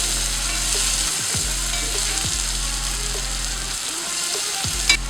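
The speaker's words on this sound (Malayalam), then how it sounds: "പച്ചമുളക് നന്നായിട്ട് വഴറ്റണം." Green chillies and onion sautéing in a pan for a buttermilk curry, a steady loud sizzle with a few low spatula scrapes and a sharp tap near the end, close and without talk.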